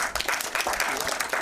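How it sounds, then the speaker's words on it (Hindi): A short burst of dense clapping from a crowd at a song launch event, lively and sustained throughout. "तो एक बार जोरदार तालियां पूरी टीम की"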